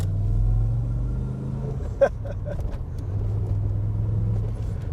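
A Holden VN SS sports sedan engine rumbles low and steady nearby, with a brief click midway and the idle throb resuming afterward.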